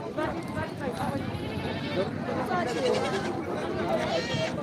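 Goats bleat repeatedly amid a busy outdoor crowd, with people chattering all around at a noisy goat market in Borda.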